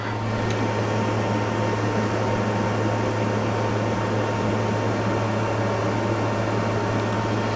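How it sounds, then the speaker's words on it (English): Loud servers running in a server room give off a continuous, even whir of cooling fans with a strong low hum, unbroken and close throughout. "Typical sources of noise are loud servers."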